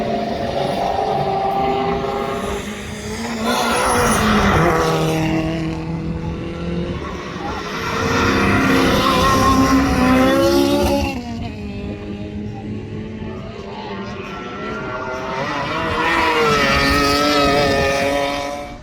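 A rear-wheel drive race car driven at pace around Hampton Downs during a Superlap round, its engine note loud and continuous with rising and falling harmonic sweeps as it revs through gears, accompanied by intermittent voice-like talk.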